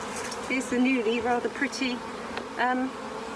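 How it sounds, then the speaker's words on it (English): Close, steady buzzing of many honeybees hovering around a hive, wavering in pitch as individuals fly near and away. "you can see all the flying bees all gathering around now"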